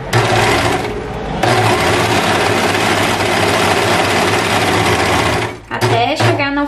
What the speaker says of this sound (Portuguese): estico o elástico e vou costurando